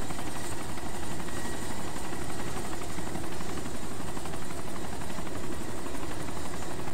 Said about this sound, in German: Also es fliegt nur ein Heli und ein irgendwo fährt auch ein Auto rum.